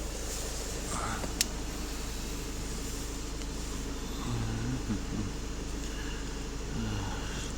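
A warmed-up Volkswagen TDI diesel with EGR faults idles in a low, steady rumble with a faint rhythmic knock, while someone speaks quietly nearby.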